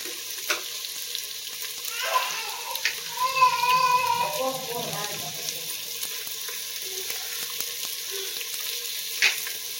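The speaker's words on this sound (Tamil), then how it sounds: "வெங்காயம் வந்து நல்லா கொஞ்சம் பொன்னிறமாக வதங்கணுங்க" Onions frying in a pan for paneer pulao, a steady soft sizzle with some stirring through the middle, at moderate level with faint background noise.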